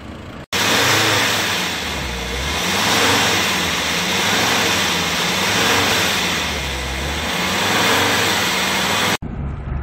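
A 2003 SsangYong Musso Sports diesel, 117,000 km on it, revs hard and steadily, its loud engine roar rising and falling in broad swells for about nine seconds before cutting off abruptly.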